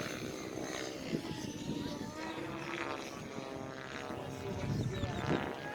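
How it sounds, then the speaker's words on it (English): Racing drones flying at a drone racing event, a continuous whining propeller buzz with shifting pitch as craft pass, heard at moderate distance over a steady background. "A few people showed up for some drone racing."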